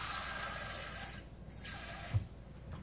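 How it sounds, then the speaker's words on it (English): Tap water poured into a Pampered Chef cold brew pitcher, a steady low wash of running liquid with a soft splash near the end, quiet and close with no talking. "I've just been using tap water, so you just pour it on in, and it starts to filter through"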